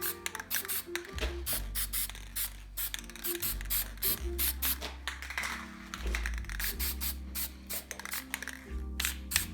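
Rust-Oleum high heat metal-colored paint is sprayed from an aerosol can onto motorcycle rear shock parts in bursts of hissing spray, with clicks and taps from handling.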